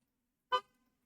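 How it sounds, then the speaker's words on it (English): A single short car horn honk sounds once outside, brief and muffled at moderate distance, in otherwise quiet surroundings. "There was a car honk outside."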